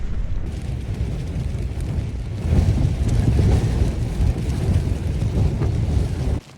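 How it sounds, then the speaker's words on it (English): Strong, roaring wind gusts buffet the microphone at a wild campsite on Hallin Fell, continuous and heavy, surging louder midway and staying intense before dropping off abruptly at the end. "These wind gusts are crazy"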